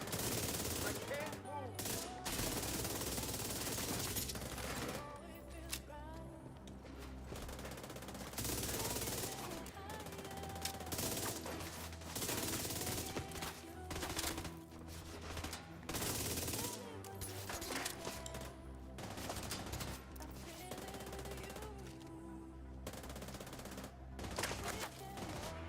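Sniper turret and gunfire in The Division 2 video game, dense repeated bursts of shots and rattling fire throughout, loud and sustained with layered explosive cracks.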